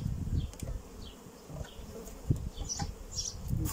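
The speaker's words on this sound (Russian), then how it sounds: "Потому что пчелки чужие собираются." Honey bees buzz around hives during a May honey harvest, a continuous droning hum with individual bees flitting past close by, rising and fading at moderate volume.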